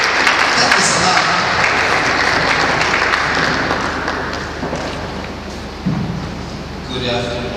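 An audience at a memorial gathering claps in a warm, lively round that starts strong and gradually thins out, with scattered claps lingering as talk resumes near the end.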